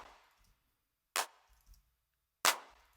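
Main electronic clap in a drum section: two crisp, isolated clap hits about a second apart, short and dry against near silence.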